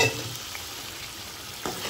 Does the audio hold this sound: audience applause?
no